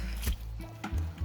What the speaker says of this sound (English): Oh my goodness, it's kind of hard to even walk. You can hear the water.